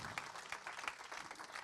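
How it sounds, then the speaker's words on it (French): A ceremony audience applauds at a 2024 New Year's wishes event in Belvédère: dense, steady clapping from many hands, sustained and evenly loud throughout with no talk over it. "On peut l'applaudir."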